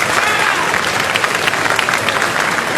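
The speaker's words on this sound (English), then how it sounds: "Round of applause for those guys." BlizzCon 2008 arena crowd applauds the casters on stage; loud, dense clapping mixed with crowd noise continues for the whole stretch.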